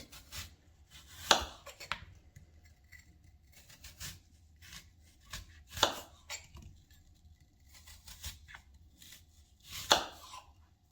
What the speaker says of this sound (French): On va découper des tranches d'environ 1 cm.